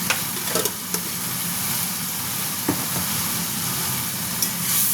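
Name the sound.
turmeric, coriander and cumin powder frying in a pan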